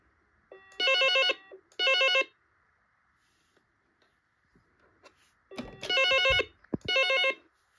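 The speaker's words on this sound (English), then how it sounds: "That's the ringtone I expected." A Dex CT230C corded telephone rings in two double bursts, two rings, a pause, then two more, loud and close, with quiet gaps between.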